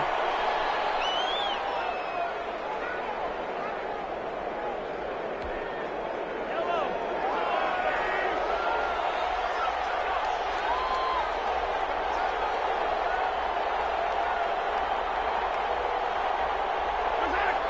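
A stadium crowd in an American football video game roars and cheers steadily as the Chargers take a knee to clinch a Super Bowl berth, a dense continuous wash of noise under a commentator's voice.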